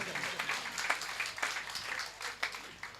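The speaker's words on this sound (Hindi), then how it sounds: "एक बार इनके लिए भी तालियां बजनी चाहिए।" Scattered applause from a seated audience at a Hindi comedy and poetry gathering, uneven bursts of clapping from a modest crowd, moderately close, with no one talking over it.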